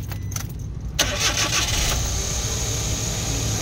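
A Suzuki DA64W with a K6A turbo engine starts with a sharp catch and then runs at a steady, loud, close idle that covers the whole stretch.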